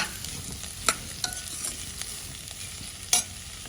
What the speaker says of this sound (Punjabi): ਇੱਧਰ ਆਪਾਂ ਪਿਆਜ਼ਾਂ ਨੂੰ ਪਾਤਾ ਪਿਆਜ਼ਾਂ ਨੂੰ ਚੰਗੀ ਤਰ੍ਹਾਂ ਆਪਾਂ ਬਰਾਊਨ ਕਰ ਲਾਂਗੇ ਆਪਾਂ ਹੁਣ ਮਿਕਸ ਕਰ ਲੈਂਦੇ ਆ